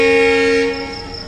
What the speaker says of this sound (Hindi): टूरिस्ट लोगों के लिए सबसे महंगी ट्रेन है ये महाराजा एक्सप्रेस।